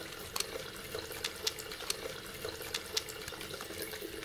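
Hands washed under a warm running tap at a sink, a steady close stream of water with small splashes and drips as the hands move, no voices.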